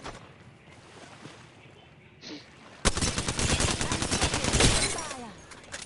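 Enemy gunfire in a battle royale video game: after a quieter lead-in, dense rapid automatic bursts break out loud and close, continuing with overlapping shots and some crashing impacts.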